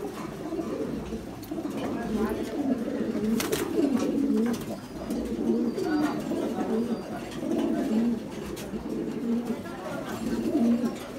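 High flyer pigeons coo in soft, repeated bubbling calls, close and fairly steady, with faint human talk in the background.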